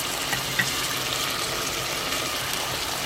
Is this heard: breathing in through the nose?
no